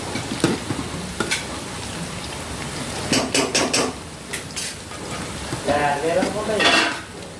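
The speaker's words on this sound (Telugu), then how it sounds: "ఫస్ట్ అయితే ఉల్లిపాయలు, క్యారెట్ ముక్కలు అయితే వేసుకొని ఆయిల్లో వేపుతున్నాము." Onion and carrot pieces fry in hot oil in a home kitchen, a steady sizzle broken by scraping stirs and metal utensil clinks against the pan, close and fairly loud, with no one talking.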